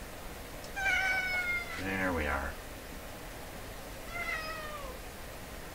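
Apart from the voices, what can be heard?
cat meowing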